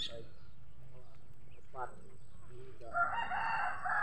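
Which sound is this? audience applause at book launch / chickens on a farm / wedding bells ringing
chickens on a farm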